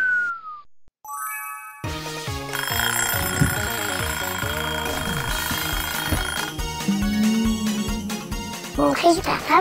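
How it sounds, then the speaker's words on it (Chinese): An alarm clock on a variety show set plays a bright, repeating melodic ring. It starts after a couple of short chirps, then runs loud and steady to the end, with voices in the background. "我们用这个闹钟把千里叫起来"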